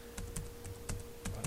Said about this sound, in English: going to our command prompt on the desktop, type in ping